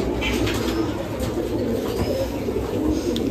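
A female Sayanpuri Kalojiria pigeon coos in low, rolling murmurs, steady and close throughout, with a constant background hum and no talking.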